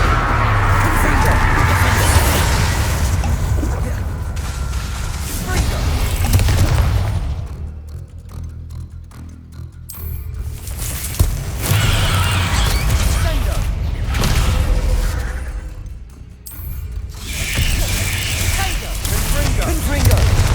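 Confringo fire-blast spells bursting again and again in the Hogwarts Legacy game, loud crackling booms layered over dense game music and effects, with brief quieter gaps between volleys.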